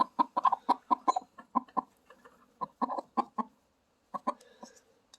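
Hens clucking close by in bursts of short, throaty clucks, a rapid run at first that thins to scattered calls with pauses, no talk over them.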